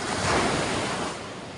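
Ocean surf breaking at a tropical beach in La Union, a loud, broad, continuous wash of waves with wind buffeting the microphone, easing slightly toward the end, no talking.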